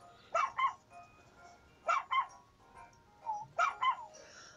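A toy poodle barks in the Nintendogs + Cats video game, with three bursts of quick, high double yips spaced about a second and a half apart, clear over a quiet background.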